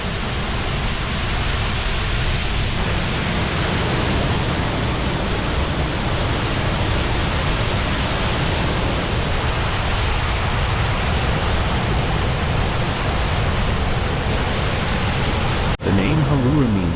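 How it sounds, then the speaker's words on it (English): A steady, thunderous roar of water falling over Haruru Falls' horseshoe-shaped drop in the Bay of Islands, New Zealand, fills the whole stretch, loud and constant with no pauses. "the thunderous roar of water as it cascades over the fall's rare horseshoe-shaped drop"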